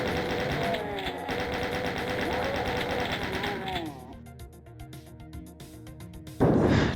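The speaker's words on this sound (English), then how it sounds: "Chain gunner closet." Chaingunner firing rapid bursts in the Doom 2 video game, dense staccato gunfire with a voice talking over it, then thinner clattering shots and a loud blast at the end.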